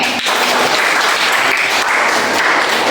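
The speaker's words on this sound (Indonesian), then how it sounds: "Tepuk tangan untuk Aime." A room full of people clapping steadily, dense and continuous for a few seconds, fairly loud and close.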